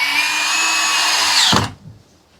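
A power drill drives a screw into wood for a sunroom makeover, a loud, steady close-up whine that ends abruptly as it stops, with no talk.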